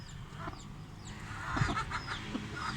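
A hen on a village farm raising Aseel chickens clucks in soft, irregular bursts, with a few other fowl calling nearby over light background noise.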